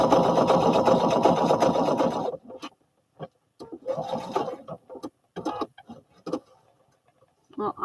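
A sewing machine runs a hem on overalls in one loud, continuous whirring burst for about two seconds, then stops, followed by scattered handling clicks and brief rustles.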